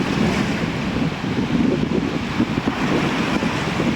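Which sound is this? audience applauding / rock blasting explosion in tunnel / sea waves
sea waves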